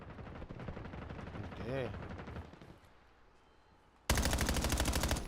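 Video game gunfire rattles in rapid bursts, a long stretch of fast shots that fades out, then a loud new burst near the end, with a voice speaking briefly over it.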